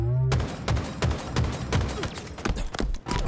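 Halo Infinite gunfire in a multiplayer match, a loud, close volley of repeated sharp shots in uneven bursts, almost continuous across the few seconds with impacts layered over one another.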